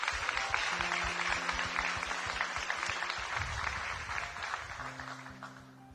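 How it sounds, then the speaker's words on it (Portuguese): A church congregation bursts into sustained, dense applause for a young man who has just accepted Jesus, steady clapping filling the hall with held musical tones underneath and fading slightly toward the end. "Vamos aplaudir o Kleber por essa decisão"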